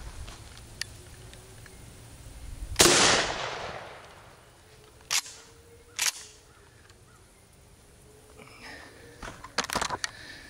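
A 12-gauge wax slug fired from a shotgun at books outdoors, one sharp loud blast with a long decaying tail, followed by a few fainter clicks and knocks.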